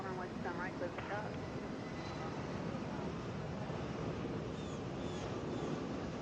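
An Endeavor Air airliner takes off from runway 27 right at Atlanta, its engines giving a broad, steady roar with some wind noise, while radio chatter is heard faintly at the start.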